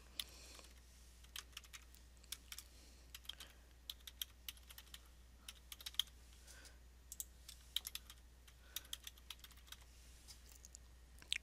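Computer keyboard typing an email and password, faint irregular key clicks in short bursts throughout, quiet and close over a low steady hum.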